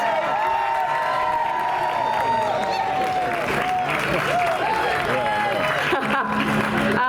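A large crowd of fans claps and cheers at a Hollywood Walk of Fame star ceremony, making a dense, steady roar of applause that continues throughout under a loud amplified voice.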